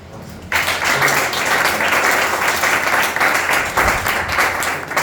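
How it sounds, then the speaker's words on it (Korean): An audience breaks into loud, sustained clapping after a brief quiet moment, the applause continuing steadily to the end. "오케이, 박수 한번 치. 박수."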